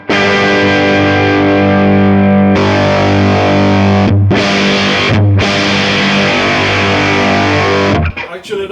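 Heavily distorted electric guitar run through a Kemper profile without the soft shaper, loud sustained power chords with brief gaps between them, thick buzzing tone that cuts off near the end.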